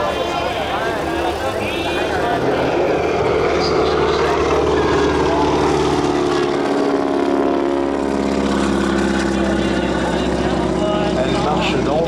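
Propeller airplane at the La Ferté-Alais air show droning steadily and loudly overhead throughout, with a wingwalker walking between the wings, while a commentator talks over it.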